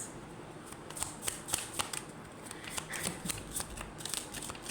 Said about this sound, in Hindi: कार्ड्स ज़रा निकाल दें क्योंकि मुझे थोड़े कार्ड्स और चाहिए